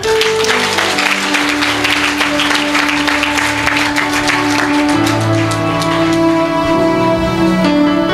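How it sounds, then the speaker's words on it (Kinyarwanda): A church congregation claps for Jesus during a prophet's service, with dense, continuous applause filling the room and sustained music or tones running underneath. "mbega yesu twamukomera amashyi"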